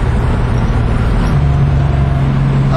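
A turbocharged Datsun 280Z engine pulls hard in third gear, a loud steady low drone that climbs into a higher sustained tone partway through, heard from inside the car with no talking.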